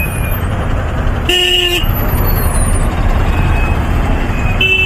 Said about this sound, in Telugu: ఫ్లైఓవర్ రెడీ చేస్తున్నారు, అందుకే ఫుల్ ట్రాఫిక్ జామ్ అన్నమాట